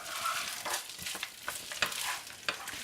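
Frozen peas, carrots and rice heating in a pan, giving a soft steady sizzle with intermittent scraping and stirring clicks, close and moderately quiet, no talking.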